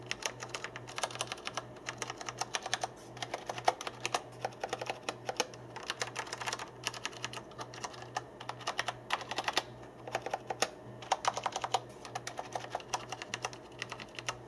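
Steady typing on a Tesoro Durandal mechanical keyboard, quick clicky keystrokes in continuous bursts with short pauses, close up and fairly quiet, with a faint low hum underneath.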